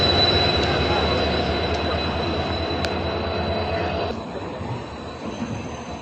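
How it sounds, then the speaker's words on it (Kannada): Train hauled by a WDP4D diesel locomotive on the Yeshwantpur to Tiptur route, a loud continuous rumble of wheels and engine with a faint squeal and a thin high tone, easing slightly toward the end. "ನಮ್ಮ ಬೀಸ್ಟ್ WDP4D KGM ಲೋಕೋ"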